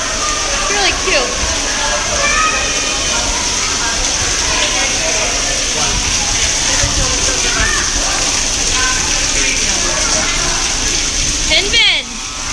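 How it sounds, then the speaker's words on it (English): Splashing and sloshing water from a water slide and squirting water toys at a children's splash area aboard the Disney Dream cruise ship, steady and close throughout, with children and adults talking over it. "Water slide, and then these things that squirt water."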